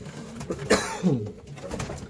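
Racing pigeons in a breeding loft give soft, low cooing calls, a couple of rolling coos close by over quiet background noise.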